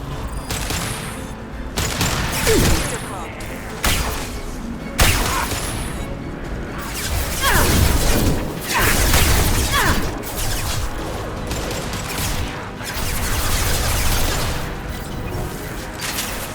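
Impact-shot weapon fire in Mass Effect 2 Legendary Edition arrives as repeated heavy blasts and crashes amid a continuous combat din, loud and close, with several sharp bursts spaced through the scene.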